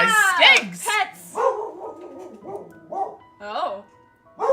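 Dogs bark in short repeated bursts, close and fairly loud, spread across the moment, while people talk between and over them.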